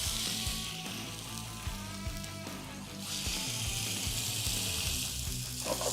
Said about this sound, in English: we're just going to go ahead and put the John Dory in the pan